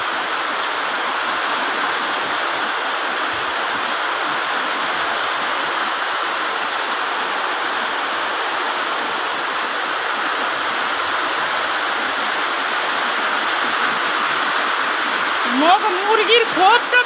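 Heavy midday rain pours down steadily with a dense, even rush of falling and running water, loud and unbroken throughout, with a few faint higher sounds near the end.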